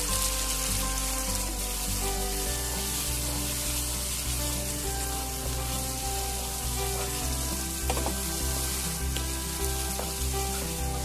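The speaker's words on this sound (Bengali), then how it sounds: "আরেকটু জল দিয়ে দেবো কাজু বাদামটা কষানোর জন্য।" Cashew nut paste masala sizzles loudly in a pan after water is added, a dense continuous crackle and hiss, close and unbroken for the whole stretch, for a Bengali vegetarian aloo dum.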